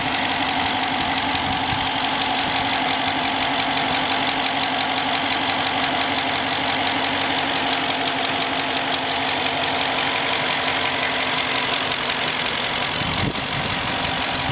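A 2020 Dodge Charger police car's 5.7 HEMI V8 with AWD idles steadily and loudly at close range, a smooth, even rumble held for the whole stretch with no change in pitch.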